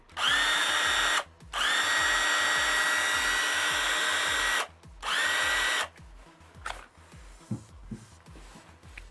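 A Tekhmann i20 series cordless power tool on a 2 Ah battery whirs at high speed in three bursts with short pauses, then stops, leaving faint clicks and handling noise.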